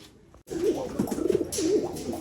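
A pigeon taken from its cage in a loft of high-flying fancy pigeons coos repeatedly in low, rolling, warbling calls, close and clear after a short quiet start.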